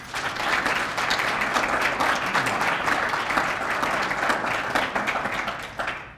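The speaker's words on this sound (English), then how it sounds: "I'd urge everyone to give you a round of applause." A city audience at a 2013 State of the City address breaks into sustained applause, many hands clapping loudly and steadily for several seconds before easing slightly at the end.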